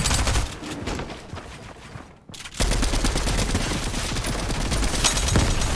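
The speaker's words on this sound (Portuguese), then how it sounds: "Aí tem alguém jogando granada." Dense, rapid Fortnite gunfire with grenade blasts mixed in, loud and nearly continuous bursts that briefly drop out before resuming at full intensity.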